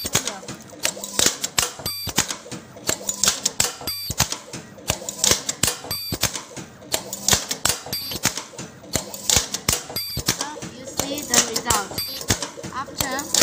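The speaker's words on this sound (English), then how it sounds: "Now let's show you the machine working situation." An open-end cutting machine works on N3 nylon zippers mounted on a pin board, giving a rapid, irregular run of sharp, loud mechanical clacks and snaps heard close up, with a voice talking over part of it.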